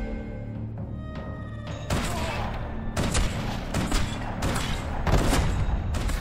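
Gunfire in the video game Max Payne 3: several loud, sharp shots and booming bursts ring out in quick, irregular succession over a steady background rumble.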